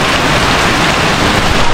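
Heavy rain pours steadily in Albay in a dense, loud, continuous hiss with no pauses, close and enveloping.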